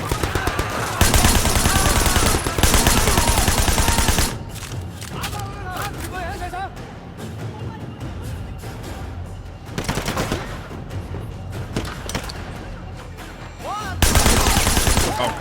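Old video game gunfire bursts in loud, dense rapid volleys, dropping off for stretches of quieter in-game sound before firing resumes, with someone talking over it.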